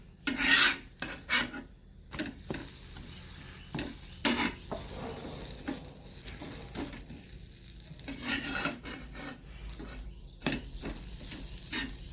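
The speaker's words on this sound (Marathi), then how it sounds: "थोडंसं बटर टाकू आपण कापून तव्यावर" Butter sizzles on a hot griddle as a sandwich toasts, a faint crackling fry broken by intermittent scraping and rubbing strokes of a spatula, with no talk.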